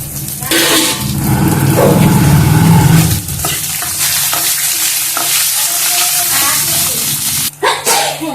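Green chillies, garlic cloves and a piece of ginger fry in oil in a pan, a loud, steady sizzle with stirring scrapes and clatters running throughout, close up.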